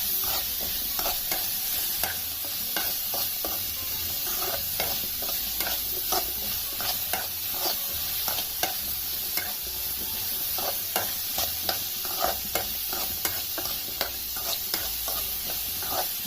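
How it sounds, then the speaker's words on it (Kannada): Tamarind and radish chutney ingredients sizzle and fry steadily in a pan, with frequent scraping stirs of a spatula throughout and no voices. "ಹುಣಸೆಹಣ್ಣು ಕೂಡ ಸ್ವಲ್ಪ ಮೆತ್ತಗಾಗಬೇಕು ಅಂತ ಹುರ್ಕೊಳ್ತಾ ಇದ್ದೀನಿ"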